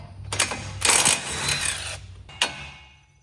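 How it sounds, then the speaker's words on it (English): An 18 mm wrench works on a car's tie rod nut, producing a few short metallic clicks and ratcheting rattles close by. Sharp knocks come near the start and end. "pop our tie rod free with an 18 mil"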